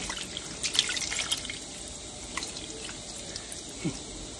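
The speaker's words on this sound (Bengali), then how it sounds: "হাতটা ধুয়ে একটু পানি দিয়ে দিচ্ছি" Water from a kitchen tap splashes and drips softly while hands are rinsed during fish cooking, faint and intermittent with a few small drips.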